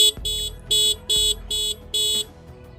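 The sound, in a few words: horn of a TVS Raider 125 motorcycle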